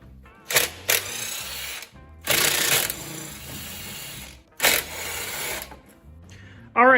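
A power ratchet or impact tool whirs in short bursts while removing valve cover bolts on a Ford Crown Victoria 4.6L, the bursts close and fairly loud, separated by quieter gaps with faint handling noises.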